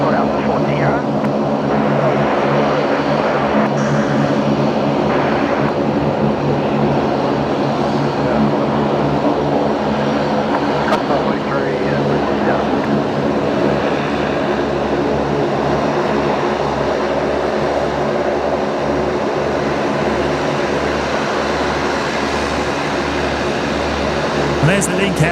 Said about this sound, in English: There's the Link Airways just pulling into Bay 50 right in front of us here